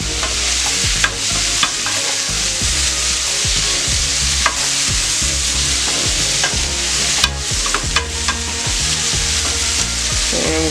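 Vegetables stirred and frying in a hot pan on high heat, a steady loud sizzle with repeated scraping knocks of the utensil against the pan, no voices.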